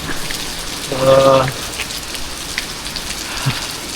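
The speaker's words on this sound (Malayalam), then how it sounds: "ഫുള്ള് മഴയാ ഇവിടെ" Heavy rain during a typhoon in Hong Kong pours down in a dense, constant roar of drops on surfaces. A brief tonal hum stands out near the start.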